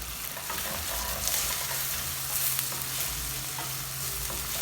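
Garlic and ginger paste sputters in hot oil for a chicken gizzard dish, a dense, steady sizzle with stirring, loud and close throughout with no voices.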